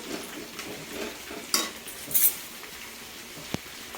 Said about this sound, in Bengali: চিকেনটা এখানে একটু ভাজা হবে।